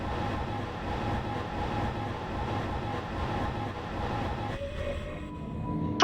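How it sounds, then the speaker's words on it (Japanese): A sleeper train, the Hokutosei, rolls into a station in the game Minecraft, giving a steady broadband rumble that holds for most of the stretch, then thins out near the end as a few tonal squeals and clicks come through. "寝台列車北斗星が到着いたします。"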